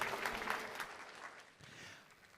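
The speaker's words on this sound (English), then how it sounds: "a round of applause" Applause from the audience at a startup pitch semi-final, faint and fading over a couple of seconds, heard from a distance in a large hall.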